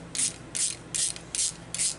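A ratchet works a 40-cent locking nut loose, its pawl clicking in five evenly spaced bursts, close and crisp, with no talk over it.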